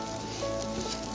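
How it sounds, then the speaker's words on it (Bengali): Raw rice grains dry-frying in a pan as the first step of shahi khichdi, making a soft, close sizzle and light patter over a short stretch with no voices. "আমি এখানে চাল ভেজে নিচ্ছি, চালের কালারটা একটু চেঞ্জ হয়ে গেলে আমি এর মধ্যে গরম জল দিয়ে দেব।"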